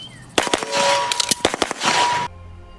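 Rapid bursts of gunfire from a character firing while running in the video game Borderlands 3, loud and close, a dense volley of sharp shots lasting about two seconds before cutting off.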